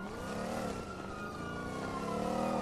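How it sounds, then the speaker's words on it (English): Loud car engine revving steadily in the GTA V video game, a continuous close drone with rising and falling pitch, no talk. "God, I hate how loud cars are."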